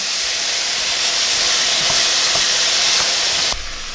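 Frozen green beans warm in a hot pan with a steady, loud sizzle and hiss throughout, a few faint stirring clicks partway, and the sound drops slightly near the end.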